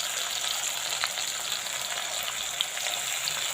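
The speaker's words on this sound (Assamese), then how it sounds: "পিঁয়াজখিনি দি পেলাই অলপ এনেকৈ লৰাই দিছোঁ" Onions sizzle steadily in hot oil in a pan for an Assamese mutton curry, a dense continuous fry with occasional soft stirring scrapes and small pops, close and even throughout, with no voices.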